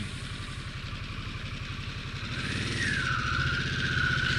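A 2022 Harley-Davidson Sportster S motorcycle rumbles steadily with a throbbing engine pulse, then grows louder and rises in pitch as it pulls away and accelerates, with continuous wind noise and no talking.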